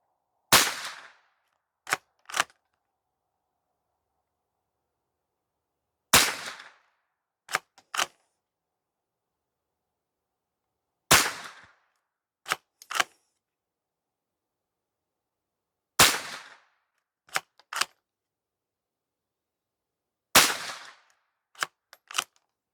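A .22LR rifle firing five rounds, one sharp crack every five seconds or so, each followed by quick metallic bolt clicks, loud and close against near silence.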